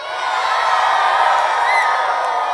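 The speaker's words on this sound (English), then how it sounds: "Give us an enormous cheer," A big party crowd in fancy dress at a Roald Dahl 100 celebration cheers loudly and continuously, a dense wall of voices with whoops and yells rising over it.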